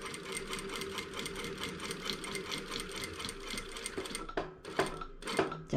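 A sewing machine runs steadily while stitching along the edge of a shirt collar about 0.2 mm in. It is close and loud with a fast, even needle rhythm, then stops and starts in short bursts near the end.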